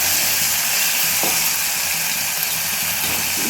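Ginger garlic paste sizzles steadily in hot oil in an Indian home kitchen, a dense continuous frying hiss with a faint stir or clink partway through, close and alone without any voices.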